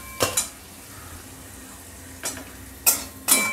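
Leafy red greens being stirred and lightly fried in a pan, with a few short, scraping clatters of utensil against metal over a soft, steady sizzle, close by with no talk.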